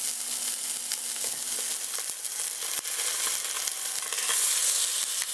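Chuck roast searing in a hot pan, a close, bright, continuous sizzle with crackling spits and an occasional thump as the meat shifts, steady and loud with no voices.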